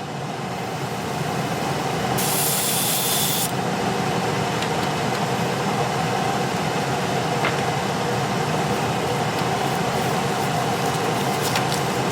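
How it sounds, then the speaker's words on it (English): A steady, loud mechanical roar of a running paint spray booth used for scale model painting fills the whole span, broadband and constant, with a brief hissing burst partway through. "And here comes the spray booth."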